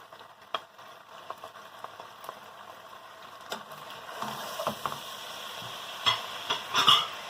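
Chicken coated in dry spices fries in a pan, a soft sizzle under scattered clinks and scrapes of stirring that grow busier and louder toward the end.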